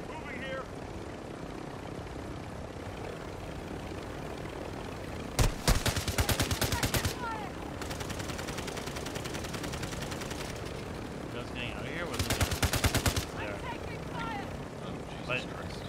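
Bursts of rapid video-game gunfire in a multiplayer match, two volleys of quick repeated shots over a constant engine-like drone, with players talking throughout.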